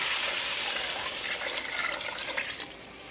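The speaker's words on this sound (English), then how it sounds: "Add water." Water pours into a pot of spiced vegetables for homemade vegetarian soup, a continuous close rushing splash that thins and fades toward the end, with no talking.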